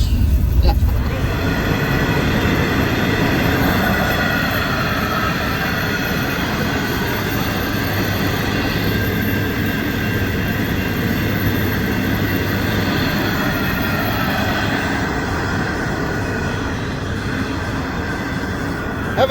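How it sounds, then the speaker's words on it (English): A long freight train pulled by three locomotives with hundreds of wagons rumbles past on a road trip toward Tom Price. The roar is loud, continuous and broadband, with steady wheel and wagon noise throughout. "These trains, there's 3 locomotives pulling that. There's literally hundreds and hundreds of trucks on the back."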